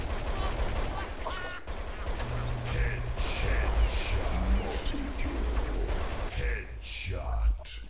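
Gunfire in Counter-Strike 1.6 during a capture-the-flag LAN match: sharp, irregular shot bursts crackle through a dense game soundscape while players talk over it.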